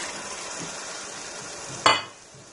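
Lentils sizzling and frying as they are stirred into hot ghee in a pot, a steady soft crackle with one sharp clink of a spoon against the pot near the end.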